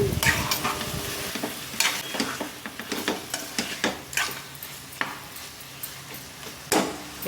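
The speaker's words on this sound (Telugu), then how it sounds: "చికెన్ వేసుకున్నాక బాగా కలుపుకోవాలండి మసాలా మొత్తం ముక్కలకు పట్టేదాకా బాగా కలుపుకోవాలి" Country chicken pieces being stirred with masala in a frying pan: a low sizzle underneath repeated sharp scrapes and clanks of the spoon against the pan, coming in an irregular rhythm.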